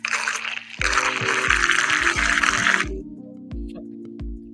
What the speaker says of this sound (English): Yeah, that's it stirring itself.